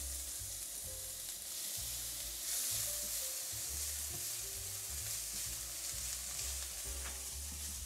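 Onion and garlic frying in a pan, a constant close sizzle and crackle with a few stirring knocks, steady throughout, quiet overall, with no talking.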